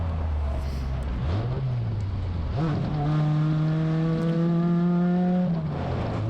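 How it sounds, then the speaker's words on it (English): A Radical race car passes at night during the 25 Hours of Thunder Hill endurance race, its engine note rising sharply and sustained against the steady loud drone of the in-car engine. "there's a Radical just flying by me"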